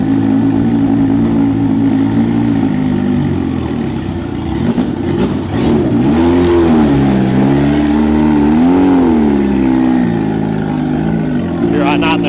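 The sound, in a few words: turbocharged Suzuki Hayabusa motorcycle ridden onto dyno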